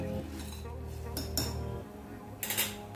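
A spoon stirs salted dal in a metal pot, giving a few quiet scraping clinks against the sides in a hushed kitchen.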